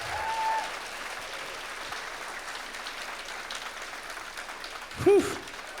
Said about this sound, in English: Let's keep that round of applause going for Keith Dietrich.